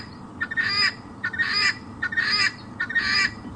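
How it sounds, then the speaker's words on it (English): Birds calling at sunset on a safari drive, four loud honking calls in an even rhythm, close and clear over a low background rumble. "we so often hear these birds calling"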